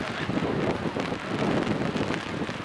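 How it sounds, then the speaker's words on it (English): Steady wind gusts buffet the microphone at a wet, breezy outdoor high school rugby sevens match in Vancouver, a continuous rough rushing roar that fills the whole stretch with no talk above it. "And a little breezy."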